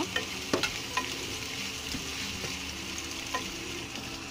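Small kachki fish fry in a pan with onion and green chilies as they are stirred, a steady sizzle broken by a few sharp utensil scrapes and taps near the start and later.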